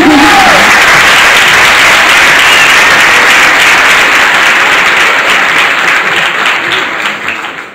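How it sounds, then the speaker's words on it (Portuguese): Loud, sustained applause from a crowd at a religious gathering fills the space, holding steady before slowly tapering off near the end. "Palmas para Jesus."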